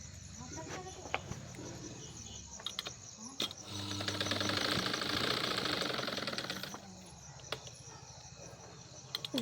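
An electric sewing machine stitches the shoulder seams of a katori blouse, a steady mechanical whir rising for a few seconds in the middle, with clicks around it and someone speaking throughout.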